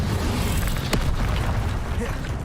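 Incendio fire spell cast in Hogwarts Legacy, a single sharp burst with a fiery whoosh amid steady combat noise, with a spoken voice present.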